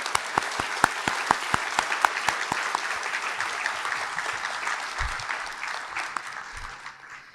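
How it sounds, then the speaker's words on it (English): An audience applauds at a nursing school pinning ceremony: dense, sustained clapping with a few sharp individual claps up front, steady for several seconds before gradually thinning and fading, with no speech over it. "So let's give them one last round of applause."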